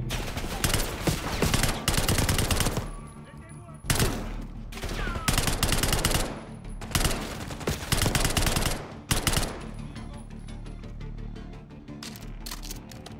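Rapid bursts of automatic gunfire from a weapon in Call of Duty Black Ops 6, repeated volleys separated by short pauses, loud and close, with brief gaps of quieter game ambience.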